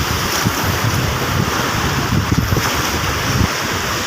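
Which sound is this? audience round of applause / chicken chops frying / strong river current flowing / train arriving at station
strong river current flowing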